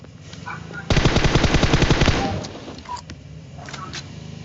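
Rapid automatic gunfire in the battle royale game PUBG Mobile: a loud, close burst of about a dozen quick shots lasting roughly a second, followed by quieter game sounds and scattered faint noises.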